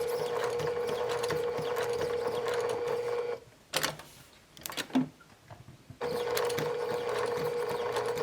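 Sewing machine stitching a fabric gift card pouch, a steady motor whir running for several seconds, stopping at the corner with a few brief clicks, then resuming its continuous stitching.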